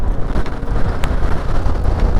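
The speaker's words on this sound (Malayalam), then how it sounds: "കാറ്റടിക്കുന്നു." Wind gusts buffet the microphone on a rainy mountain road in Munnar, a loud, rough, low rumble that rises and falls in uneven pulses for a couple of seconds, with no talking.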